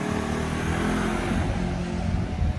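A scooter rides past on a Philadelphia city street, a mid-pitched engine hum rising and falling briefly over steady traffic noise.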